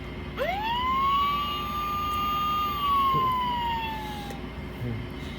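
An emergency vehicle siren gives one long, clear rising-and-falling wail over a steady background hum, with a faint voice briefly audible.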